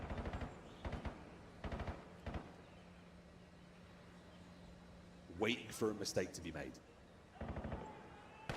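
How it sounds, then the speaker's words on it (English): Bursts of rapid gunfire in a competitive shooter match near railway tracks, several short volleys at the start and end, with a commentator talking over the action in the middle. "Slight exchange of gunfire there down by the railway tracks."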